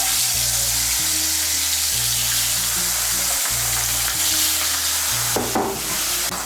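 Pabda fish frying in hot mustard oil, a steady loud sizzle running the whole time with short stirring scrapes near the end and a low hum beneath.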